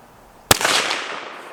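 A single sharp rifle shot from a Savage Axis chambered in 300 Blackout, fired offhand outdoors, a loud crack followed by a fading rolling echo.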